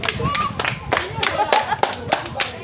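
An audience applauds in a room, with rhythmic, moderately loud clapping running throughout while a voice talks over it.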